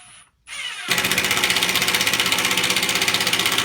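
A Milwaukee M12 Fuel 3/8-inch cordless impact wrench whirs loudly and steadily after a brief pause, with a fast rhythmic clatter of hammering impacts running through it.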